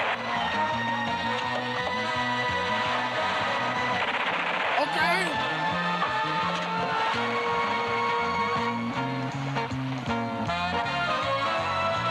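Glock pistol fire in a film comes as rapid, repeating bursts like a machine gun, heard under people talking over a busy soundtrack.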